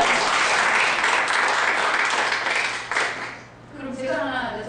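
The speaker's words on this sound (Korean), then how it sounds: "박수 쳐드려야 돼요." Audience applause after a question at a Korean author's lecture on dreams and sincerity, dense clapping that fades near the end as a voice begins speaking.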